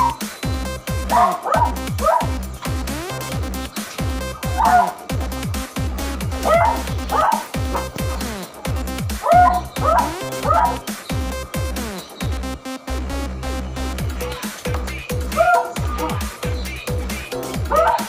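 Dogs, a beagle, a shih tzu and a tervuren, bark and whimper in a busy, continuous stretch of yips and bow-wows close by, over steady background music-like tones, with no talking.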